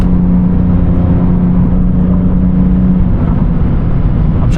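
A 2021-or-later Lexus IS 350 with an Apexi exhaust gives a loud, steady, deep exhaust drone at low-to-mid revs, heard from inside the car as it drives.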